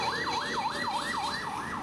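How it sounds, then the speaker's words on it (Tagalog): An ambulance siren wails in a steady rising-and-falling cycle, several quick sweeps in under two seconds, loud and close on a street without any talk. "Oh, may ambulansya."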